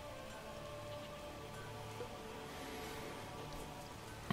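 Rain falling in The Witcher 3 video game, a soft, steady hiss of drops pattering continuously at low volume with no talk.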